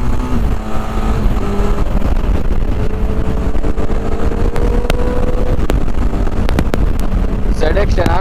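A Kawasaki ZX10R fitted with a new exhaust is ridden along, its engine a loud, steady drone mixed with wind buffeting, with some voice sounds near the end.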